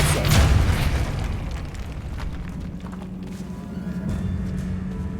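A Depulso force spell is cast in Hogwarts Legacy, a loud, deep whooshing boom at the start that fades into a steady low rumble and ambient game hum.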